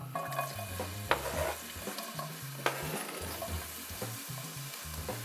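Onions sizzle and fry in a pan while a spoon stirs them, steady crackling close up with frequent scraping knocks of the utensil against the pan and no talking.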